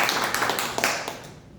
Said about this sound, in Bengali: দোয়া এবং ভালোবাসা একটা করতালি হয়ে যাক